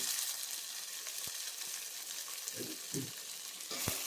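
Tomatoes fry in a pan for a country chicken curry, giving a steady close sizzle with a few soft stirring knocks and scrapes throughout; no voices.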